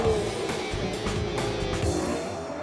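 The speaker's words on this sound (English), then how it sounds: "The more impatient I get, the more I spin wheels and lose ground." Ferrari F12 or Aston Martin Vanquish accelerating hard with wheelspin, a loud, steady, close-up engine roar with a faint tire squeal running throughout, no voices.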